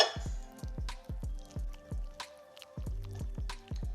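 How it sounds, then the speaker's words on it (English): Pasta water is added to carbonara sauce in a pan, making a close series of wet squelching plops roughly every half second with a short pause midway and no talking. "I added a little bit more pasta water because it was a bit too like dry-ish."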